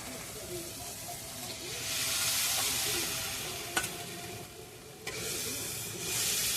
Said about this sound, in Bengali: এটা একটু নেড়ে চেড়ে কষিয়ে নেবো।